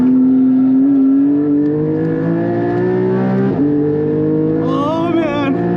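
A modded Porsche 718 GT4 accelerates in second gear on a race track, its engine note rising steadily and loudly from close range with a brief gear-change dip, while a voice speaks over the in-car engine roar.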